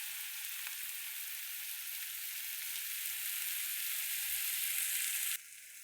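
Chili roasting in a pan gives a continuous bright sizzle that holds steady and close for about five seconds, then cuts off sharply.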